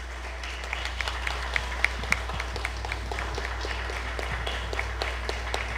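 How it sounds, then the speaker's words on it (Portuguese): A church congregation claps steadily and loudly throughout, a dense continuous wash of applause over a low steady hum, with some sharper claps standing out. "Vamos aplaudir Jesus bem forte, que Ele merece"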